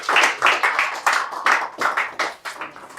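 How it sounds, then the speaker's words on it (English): Applause at a cricket tournament opening ceremony, a crowd clapping in uneven rhythmic bursts that rise and fall, fairly close and steady throughout with no talk over it. "can we have a big round of applause?"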